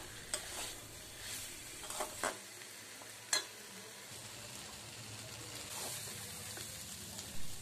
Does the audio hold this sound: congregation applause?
no